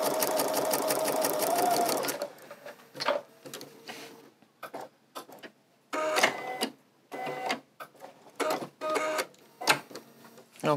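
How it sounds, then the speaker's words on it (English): A sewing machine stitches a quarter-inch seam with a quarter-inch foot while piecing a quilt block, running loud and steady for about two seconds, then short clicks and rustles of fabric being handled nearby. "all I have to do is press those or stitch those together with my 1/4 inch foot"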